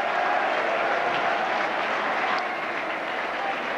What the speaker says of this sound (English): Watford players going over to the sad Birmingham fans and applauding them